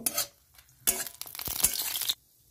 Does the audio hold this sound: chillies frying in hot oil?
yes